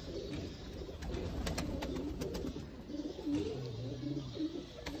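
Sialkoti pigeons coo softly at close range, low throaty calls repeating through a steady background of flock chatter and rustling.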